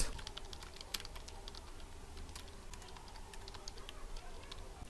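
Keyboard typing on a computer while filling in a biodata form in MS Word, a steady run of faint, soft key clicks over low background hum with occasional louder taps.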